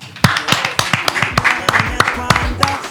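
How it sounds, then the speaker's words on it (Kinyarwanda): A group, likely children at a reading session, claps in quick rhythm, close and lively, each clap sharp and distinct over about three seconds. "tumuha amashyi"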